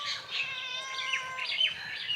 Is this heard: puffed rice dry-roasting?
no